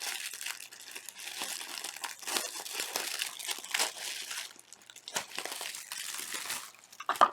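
Crinkly paper wrapping from a crochet subscription box is unwrapped up close, a steady run of rustling and crumpling with sharp crackles, no talking.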